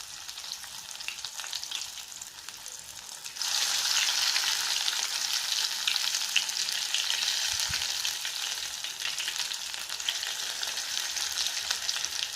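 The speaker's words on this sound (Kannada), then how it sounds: "ಎಣ್ಣೆ ಬೆಚ್ಚಾತಂದು ಒಂಜೊಂಜಿ ಒಡೆನ್ ಪಾಡ್ಗೈಕ್ ಇಂಚ ಈ ರೀತಿ ಅದು ಪಾಡೋಡು" Tojanku leaf vada dropped into hot oil, with a steady sizzle that grows louder and fuller as the fritters go in and then holds a dense, continuous crackle throughout, no voices.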